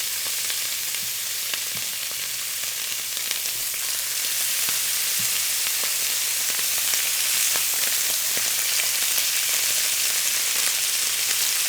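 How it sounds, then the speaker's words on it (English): Boneless ribs sizzle steadily in smoking-hot oil in a cast iron pan, a continuous bright hiss with scattered small pops and crackles, close and alone. "The sizzle is what you want."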